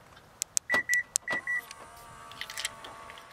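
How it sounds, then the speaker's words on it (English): Side mirrors on a 2012 Kia Sorento SX auto-folding as the car locks: a few clicks and short beeps, then a soft electric motor whir fading out, close and quiet. "the mirrors are actually auto-folding upon locking and unlocking the vehicle"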